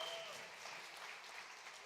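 A church congregation claps to welcome pastor Bruno Caetano, a steady, faint wash of applause that holds evenly for about two seconds without a break.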